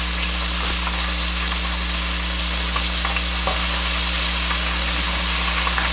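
Loud, steady sizzling of Cajun-seasoned fish frying in a crowded pan of oil, a continuous hiss with small crackles and faint stirring, close up and without talk.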